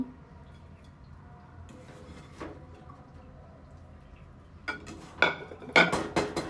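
Cooked noodles being served from a pan onto a plate, with quiet background hum broken by a few light clinks and then a burst of louder scraping and clattering of utensil against pan and plate near the end.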